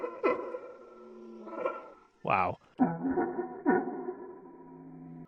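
A starling mimics a digital UI sound sample, giving a string of clear electronic-like tonal chirps and warbles with a buzzy burst in the middle, close and loud, while a man briefly exclaims over it.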